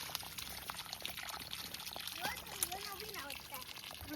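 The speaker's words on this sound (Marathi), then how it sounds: "आणि असं पाणी आम्ही सोडतो." Water poured from a newly connected pipe tap splashes and trickles at close range, a steady wet patter with a voice and other talk audible over it.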